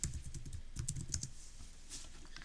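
Typing on a computer keyboard, a close, quiet run of quick key clicks, busier at first and then sparser.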